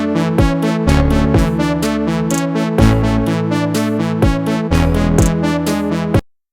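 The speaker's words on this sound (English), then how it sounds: "they're using a synthesizer called Sam for the acoustic guitar sound" Sampled acoustic guitar preset from a synthesizer called Sam, played in a beginner-friendly DAW: a steady, loud strummed and plucked pattern of repeated chords and bass notes with sharp attacks, running alone for about six seconds before stopping abruptly.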